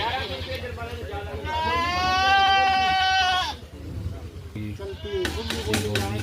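Goats at a busy Sunday livestock market in a Punjabi village bleat, one long wavering cry rising clearly over nearby chatter, followed by shorter calls and bursts of talk from traders close by.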